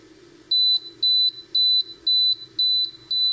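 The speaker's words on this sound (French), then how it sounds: "Voilà, la machine bip." An air fryer beeps in a steady series of six high-pitched tones, each about a quarter second long, evenly spaced over a low background hum.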